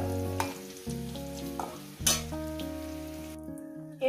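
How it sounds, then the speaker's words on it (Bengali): Whole cumin and garam masala sizzle in hot oil during aloo dum cooking, a soft fry partly masked by loud background music with sustained notes. "কয়েক সেকেন্ড ভেজে ভাজার যাতে ফ্লেভারটা বেরোয় গোটা গরম মশলার থেকে"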